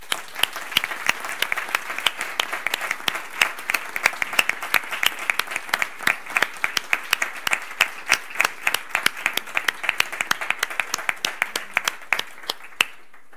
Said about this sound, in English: join me in giving them both a warm applause